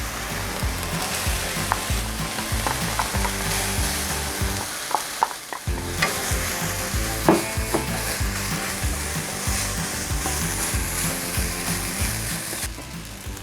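Rice sizzles and fries in a hot wok with fish sauce for Thai basil fried rice, a dense continuous crackle broken by repeated scraping stirs of a spatula, close and loud with a brief lull midway.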